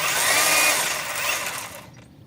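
A Heimerdinger LB192 cordless two-handed chainsaw with a 12-inch bar runs briefly after generous chain oiling, giving a bright whirring whine that fades into silence near the end.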